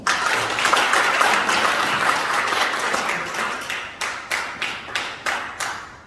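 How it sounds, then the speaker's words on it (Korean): A concert-hall audience at Chungmu Art Hall applauds loudly, with dense, steady clapping that thins in the last seconds into a handful of separate, evenly spaced claps. "박수 좀 주세요"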